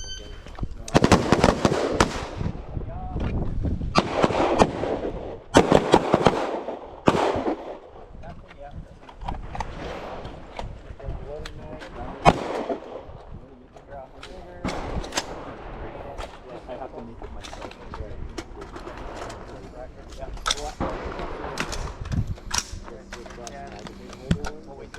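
Pistol shots crack in irregular volleys at an outdoor shooting range during a transitions drill, sharp reports near and loud with echoes, while people talk between strings of fire.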